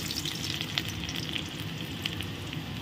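Garlic and fenugreek seeds fry in hot oil in a pan, giving a steady, close sizzle with fine crackling pops throughout and no voices.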